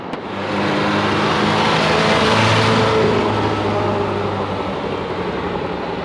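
A 1975 Chevy Vega Cosworth, long abandoned, drives past with a loud, steady engine roar that swells and holds for several seconds, close by with no talk over it.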